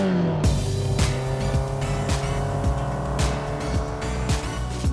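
An old car without power steering driving at around 30, its engine revving and shifting with a rising and falling drone, tires squealing briefly, heard from inside the car and fairly loud throughout.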